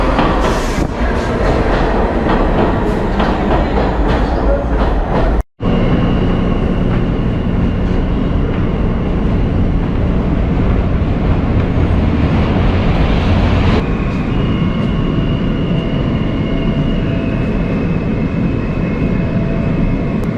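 A New York subway train pulls into the New York University station, a loud rumbling roar of wheels and motors that builds with rattling clatter, broken by a brief dropout, then steady tonal motor whine as it slows.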